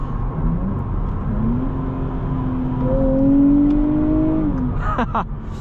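A 2024 Nissan Z sports car engine revs up and accelerates, its pitch climbing and sustained, loud and close over a steady low rumble.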